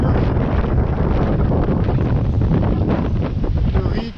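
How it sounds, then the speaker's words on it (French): Strong wind of about 32 knots roars continuously across the microphone on a sailboat at sea, loud and buffeting, with rushing water underneath. "obligé parce qu'il y a 32 nœuds de vent."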